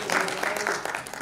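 Audience applause at a Urdu mushaira in Bhopal during Jashn-e-Urdu, welcoming a poet to the stage; a dense, steady burst of many hands clapping that tapers off toward the end.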